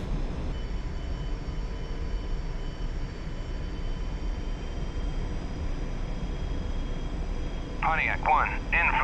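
A jet taxiing in the DCS World flight simulator sends out a steady, unbroken engine drone with a faint high whine. A short chirpy burst rises near the end.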